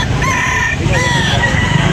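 A rooster crows loudly and close by, its drawn-out call rising and falling over a steady low background rumble.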